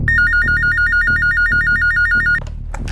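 A telephone rings with a rapid trilling electronic warble that repeats steadily for about two seconds and then stops abruptly, loud and close over a low background hum.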